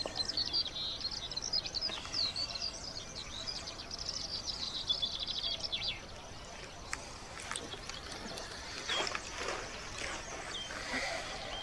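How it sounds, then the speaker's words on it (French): A common chaffinch sings in a wild green area at Les Plaines Villes in Ploufragan, its quick bright phrases faint and partly masked by background noise. "Ce pinson des arbres profite encore, mais pour combien de temps"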